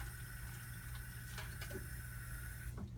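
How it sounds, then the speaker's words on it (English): Water from a portable filter pours into a glass, a soft steady trickle heard close and quiet on its own, with a faint background hum and a brief break near the end. "I'm gonna fill this other glass up with the filtered water"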